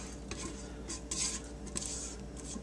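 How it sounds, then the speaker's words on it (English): A small spatula scrapes and spreads chocolate chips across jalapeño toffee in a pan, giving close metallic scrapes and light clinks in short irregular strokes. "now I'm gonna use my little"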